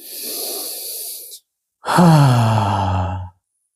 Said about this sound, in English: inhale deeply, and exhale